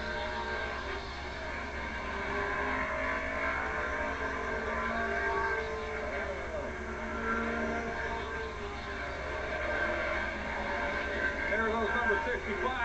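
Stock cars roar around Bridgecity Speedway in a 1986 race, including a T-Bird, their engines a steady, distant drone under continuous commentary.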